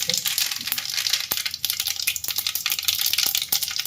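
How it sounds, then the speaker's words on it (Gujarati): Mustard seeds crackle and pop sharply in hot oil, with irregular bursts over a steady frying sizzle. "તેલ ગરમ થઈ ગયું છે પછી પહેલાં અડધી ચમચ રાઈ નાખીને ફોડી દઉં"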